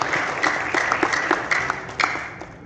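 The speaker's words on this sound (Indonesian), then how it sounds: "Kita kasih aplaus." Audience at an education workshop breaks into applause, a steady patter of many hands clapping with a few sharper peaks, moderately close and continuing for a couple of seconds without talk.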